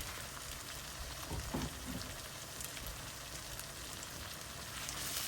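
Chicken curry with a splash of kewra water cooks on a medium flame, giving a steady, fairly quiet sizzle and hiss throughout with a few faint stirring scrapes, no voices.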